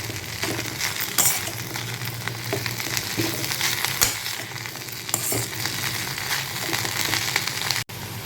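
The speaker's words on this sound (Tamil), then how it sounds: "இந்த நெய்யிலே நல்லா டாஸ் பண்ணிவிட்டு லேசாக வதக்கிக்கணும்." Moringa leaves tossed and sautéed in ghee in a pan, giving a steady close sizzle with stirring scrapes and occasional soft clinks throughout, no talking.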